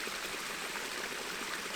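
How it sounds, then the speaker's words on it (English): A small stream flows through an outdoor water area, giving a steady, close, even rush of running water with no voices. "water"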